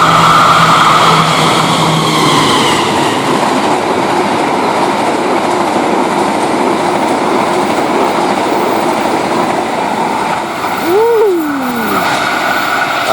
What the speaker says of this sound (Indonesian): Ternyata yang nongol duluan kereta api Argo Wilis.